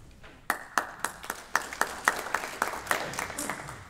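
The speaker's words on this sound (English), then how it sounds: "now that I have applause, I guess we're done" Sparse, rhythmic hand clapping from a small group, about a dozen distinct claps over a few seconds, fairly close and steady.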